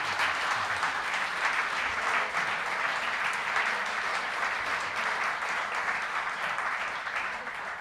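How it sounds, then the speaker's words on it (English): Steady applause from a live audience at a full-length Opportunity Coalition event, a dense continuous patter of many hands that holds at an even level and tapers slightly near the end, with no voices over it. "Let's give Wayne a round of applause."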